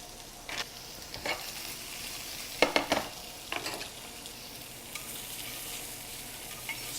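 Shrimp and salmon fry in a hot pan with a soft, steady sizzle, broken by several sharp spatula scrapes and taps as the pieces are moved; no one speaks.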